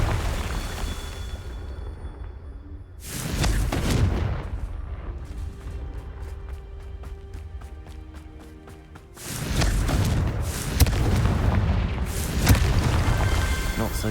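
Confringo fire spells blast in Hogwarts Legacy, a pair of heavy booming explosions with rumbling tails, loud and close, separated by quieter game ambience with rhythmic mechanical clicking.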